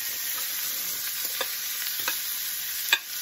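Corn stirred in hot grease in a pan keeps up a continuous close sizzle and frying hiss, with a few soft scrapes and taps of the spoon against the pan, without talk.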